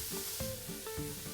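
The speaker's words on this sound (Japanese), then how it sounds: "大さじ2杯分を入れ、鍋に入れといた玉ねぎを炒める。" Chopped onions fry in about two tablespoons of lard in a pot over medium heat while being stirred for kimchi jjigae, giving a steady close sizzle with soft scraping and stirring sounds.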